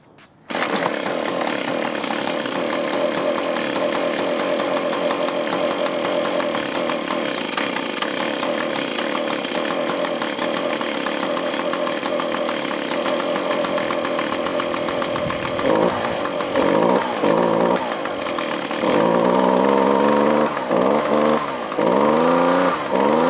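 A small two-stroke engine on a leaf blower or trimmer that runs poorly roars loud and steady with the idle turned up, then surges and wavers near the end.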